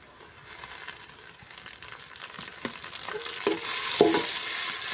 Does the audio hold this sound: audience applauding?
no